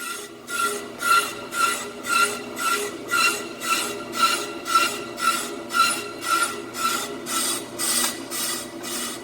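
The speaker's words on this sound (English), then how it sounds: "So you hear it scratching, so it's called a scratch cut." A brake drum lathe takes a scratch cut on a rear drum, the bit scraping in a steady rhythmic pulse about once per second with a ringing metallic tone, close and without speech.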